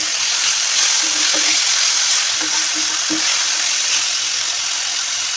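Marinated chicken sizzles in hot oil with whole spices (bay leaf, a piece of chili, cinnamon, cardamom and cloves) for biryani. A steady loud frying hiss runs throughout, with a few light clinks of stirring.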